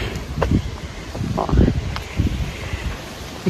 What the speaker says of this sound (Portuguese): Olha o vento que tá